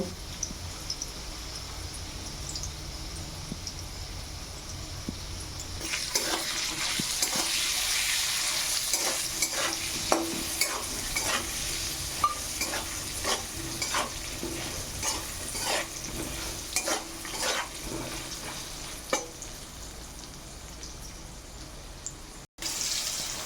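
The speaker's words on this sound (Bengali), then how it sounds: "নুন আর হলুদ দিয়ে আমি আলুগুলো ভেজে নেব" Potato pieces fry with salt and turmeric in a pan, a steady close sizzle with repeated sharp scrapes and clinks as they are turned, growing louder partway through and continuing alone without talk.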